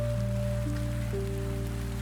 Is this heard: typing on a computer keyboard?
no